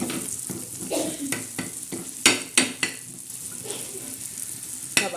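Ripe tomatoes pounded and ground on a traditional flat grinding stone for thecha: repeated sharp thuds and wet squishy crushing strokes in an uneven rhythm, close and fairly loud, with no talk.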